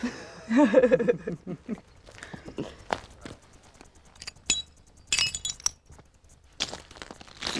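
Small pieces of glass clink and rattle while being rummaged through outdoors, a run of irregular clattering near the mic with people talking around it.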